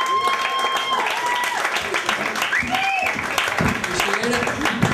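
Audience claps for stand-up comedian Don Weir at a comedy show, a moderate burst of applause running under a host's voice.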